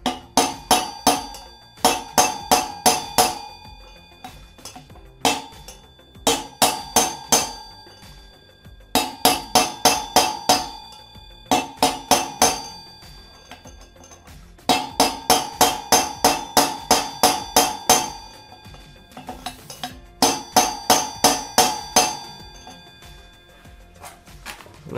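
Hammer blows on a stuck roller bearing from a Chinese Ranger 250 motorcycle, loud ringing metallic strikes in quick bursts of about six to ten, separated by short pauses, close and alone.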